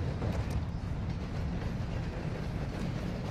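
A train rolling along in the video game DMZ: a continuous deep, rumbling roar with no pauses, fairly loud and heard on its own.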